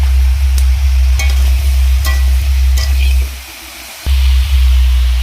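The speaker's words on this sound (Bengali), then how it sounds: "সবজিগুলো একটু নাড়াচাড়া করে নিয়ে তেলের মধ্যে 1 চামচ নুন, 1 চামচ লঙ্কা গুঁড়ো আর 1 চামচ হলুদ গুঁড়ো" Vegetables, pumpkin among them, sizzle loudly in hot oil in a wok while a spoon stirs them with regular scraping knocks. The stirring pauses briefly, then the frying resumes.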